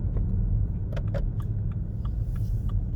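Low, steady engine rumble from a BMW 318d driving and shifting up through the gears, heard from inside the car alongside a few faint clicks and taps.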